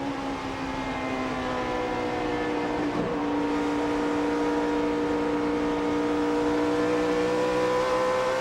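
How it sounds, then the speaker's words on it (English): A NASCAR Sprint Cup race car engine revs out of a turn at the 2008 Camping World RV 400, a sustained, steady high mechanical whine with layered harmonic tones, rising gently and running unbroken under faint background noise. "You can just hear the RPMs revving as he comes out of the turns."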